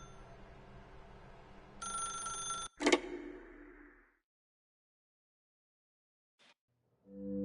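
A telephone rings in the video game The Stanley Parable, a short electronic ring burst followed by a louder clunk, then near silence and a faint low tone at the end.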